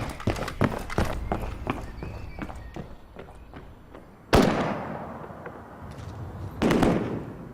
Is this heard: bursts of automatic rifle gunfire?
yes